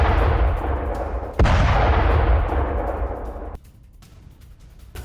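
Russian artillery fire strikes a target in a loud, booming sequence: a heavy blast rolls out, a second sharp report cracks in and decays over a couple of seconds, then it drops to quiet rumble.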